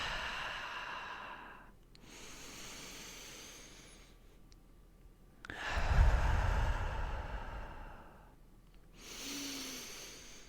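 Slow, deep breaths during a guided body-awareness practice, each long airy inhale and sighing exhale close and soft, about four cycles with quiet pauses between them.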